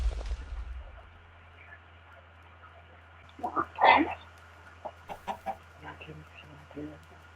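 A few video game chicken clucks and squawks stand out over a quiet hum, with short clucking bursts following one another.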